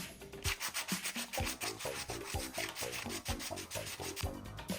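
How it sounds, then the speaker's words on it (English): Sandpaper of 220 grit is rubbed over the rough hole edges of a Friday the 13th Part 3 style hockey mask, giving loud, close, rhythmic back-and-forth scratchy strokes, about two per second, with no talking. "use some of this 220 grit sandpaper to sand down the rough edges of the mask from where these holes were made"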